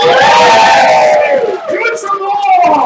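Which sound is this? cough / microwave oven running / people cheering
people cheering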